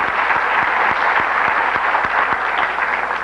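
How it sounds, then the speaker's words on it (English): A high school awards night audience claps for a student in a hall, a dense loud round of applause with several sharper individual claps standing out in a regular beat. "That's worthy of applause."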